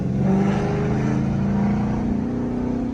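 An Audi TT drives past on the road with its engine roaring and revving steadily, close and loud over the whole moment, with no talk.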